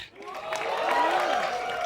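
Audience at a college mic drop club introduction breaks into a sustained round of applause, swelling quickly and holding steady for a couple of seconds with some voices mixed in.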